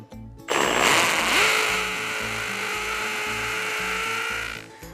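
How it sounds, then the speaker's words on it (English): A hammer drill with a 1/2 inch masonry bit bores a 2-inch-deep hole into brick, starting abruptly and holding a loud, steady, grinding whine for about four seconds before cutting off. "now I'm going to go ahead and drill this hole 2 inches deep with my 1/2 inch masonry bit"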